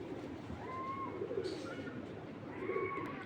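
A pair of racing pigeons coo softly up close in a few low, rolling calls, with gentle background noise between them.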